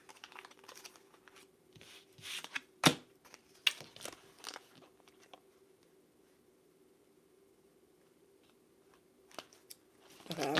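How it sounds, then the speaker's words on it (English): Romance angel oracle cards being shuffled and handled close by, with a loud snap near the start, scattered riffles and rustles, then a quiet stretch before a few more crisp flicks at the end; a steady low hum runs underneath. "Okay, I'm gonna shuffle that again because I don't feel like that makes sense."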